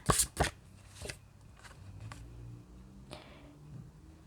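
Oracle cards shuffled for a tarot-style reading, with a few sharp riffling bursts up front followed by softer, quieter card handling, close by and without talk.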